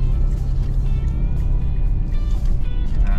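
Steady road traffic passes the entrance to Seascape Village at a Manila bayside resort, a continuous close rumble of engines and tires with no break and no voices.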